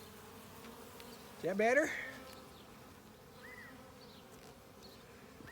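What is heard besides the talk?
honey bees buzzing around a hive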